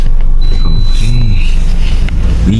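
Inside a large van on a private tour in Japan, a steady engine and road rumble fills the cabin while people talk over it.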